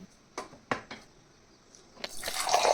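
A new home water purifier gives a few sharp clicks, then water starts dispensing as a rising, hissing stream that grows louder toward the end, close by with no talking.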